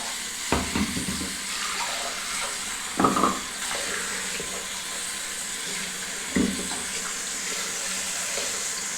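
Hot water running steadily from a tap into a sink while shaving gear is prepared, a continuous close splashing hiss with a few brief louder clatters.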